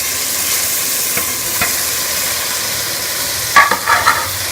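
Chicken frying in spiced masala for a chicken biryani hisses with a steady loud sizzle, with a few scrapes of stirring and a louder clattering stir near the end.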